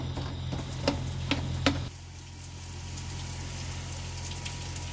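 Vegetables frying in a pan on medium heat for a vegan curry, a steady close sizzle with a few stirring clicks early on, then an even, softer hiss with no talking.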